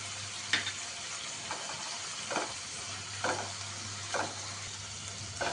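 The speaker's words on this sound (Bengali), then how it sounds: "মোচাটা দিয়ে আমি খানিকক্ষণ নাড়াচাড়া করে নিই" Banana flower, boiled earlier and dusted with turmeric, fries in a pan with a soft steady sizzle. A spatula stirs it in a slow, regular rhythm of scraping strokes about once a second, with a low hum beneath.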